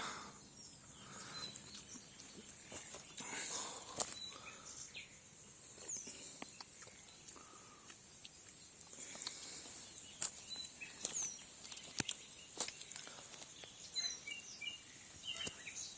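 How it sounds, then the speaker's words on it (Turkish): Faint outdoor ambience with scattered bird chirps and calls over a steady insect buzz, birds sounding distant and intermittent. "doğada kuş sesleriyle beraber duyuyorsunuz"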